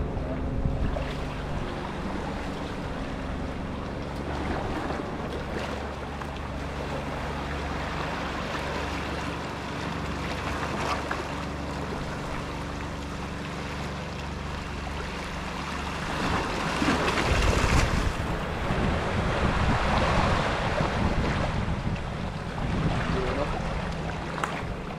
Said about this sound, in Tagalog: Grabing alon pa rin idol, nakas pa rin ang hangin doon mga idol.